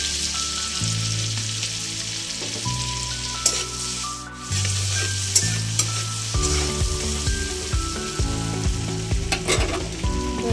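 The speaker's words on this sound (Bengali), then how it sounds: "কড়াইতে অল্প তেল দিয়েছি, তার মধ্যে অল্প বাটার দিয়েছি, এর মধ্যে অল্প জিরে দেবো।" Cumin seeds fry in a little oil and butter in a wok, giving a steady sizzle with soft stirring scrapes and light clinks, with several small bursts near the middle and no talking.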